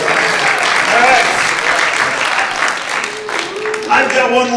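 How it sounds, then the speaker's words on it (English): An audience at a comic magician's stand-up show claps warmly throughout, while a performer keeps talking over the applause. "Big round of applause for Tony."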